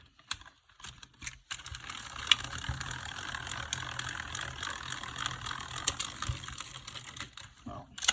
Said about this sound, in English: I'm going to get it in my little die machine